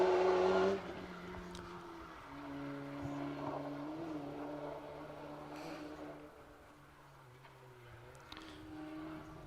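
Rally cars on an asphalt special stage of the Manx Rally, with engines revving and droning from a distance, one car passing close at the start, then fainter motor hum rising and falling.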